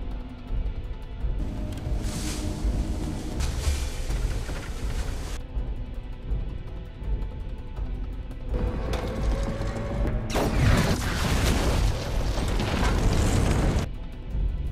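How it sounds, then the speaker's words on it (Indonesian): Action-film soundtrack with a loud explosion, rumbling booms and crashing debris over a continuous dense mix, building to a heavy burst near the end. "dia tewas karena ledakan."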